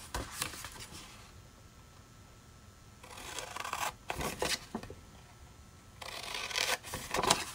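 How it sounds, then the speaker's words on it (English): Paper being cut along score lines while assembling a handmade gift bag: repeated crisp scissor snips in short bursts, close and fairly quiet, separated by quieter rustling and handling gaps. "the rest of these score lines we're just going to cut up to the score line"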